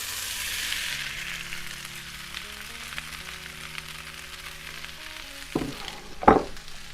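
Potatoes, onions and corn frying in olive oil in a pan give a soft, steady sizzle under faint background music, followed by a couple of sharp clattering bursts near the end as ingredients and utensils hit the pan.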